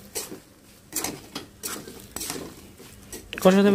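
Sun-dried mango pieces stir-fried in a pan for pickle, a spoon scraping and clattering against the metal in several close, irregular bursts between quieter moments.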